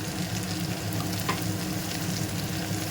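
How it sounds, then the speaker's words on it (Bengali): Chopped onion frying in a pan with a dense, continuous sizzle, close and steady, with one faint utensil tick partway through. "তাই পেঁয়াজ কুচিটা দিয়ে দিলাম"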